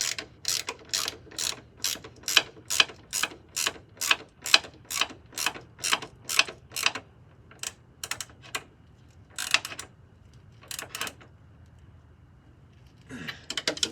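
Ratchet tightening coilover bolts on a Honda Accord: a fast run of sharp, evenly spaced clicks, then a few shorter bursts with pauses, close and crisp.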